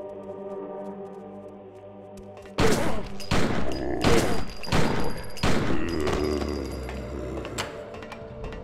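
Video game gunfire fired while backing away from nightcrawlers: after a low droning ambience, a burst of loud, booming shots erupts in quick succession, echoing and then trailing off into rumbling aftermath.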